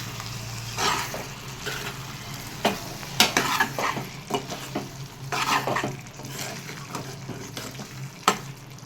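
A spoon scrapes and stirs brinjal green dal curry in a pan, with a low oily sizzle underneath and intermittent clinks and scrapes against the metal, irregular and close.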